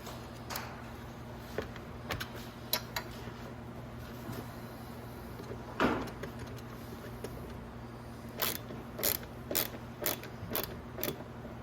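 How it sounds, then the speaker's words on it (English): A bolt is worked into the ignition area of a Venom X22 125cc motorcycle with faint metallic clicks and ratcheting ticks, sparse at first and then a quick cluster of sharp taps near the end. "we're going to put our bolt in right here, down here"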